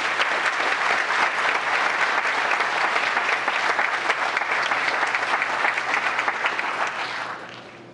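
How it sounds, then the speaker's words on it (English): An audience at a town council meeting gives a sustained round of dense, even applause that holds steady for several seconds and then tapers off at the end. "So one more time, let's give them a round of applause."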